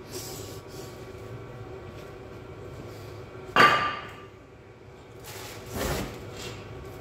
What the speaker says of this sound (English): just beat this with a hammer a couple of times to get it to come off